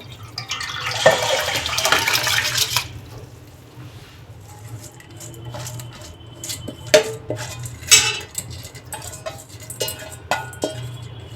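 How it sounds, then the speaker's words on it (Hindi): Soaked, swollen rice grains being tipped into a pot of water on a gas stove for street-style veg fried rice, a bright watery splash and rattle at the start, then scattered clinks of utensils against the pot. "चावल को पूरा डाल देंगे"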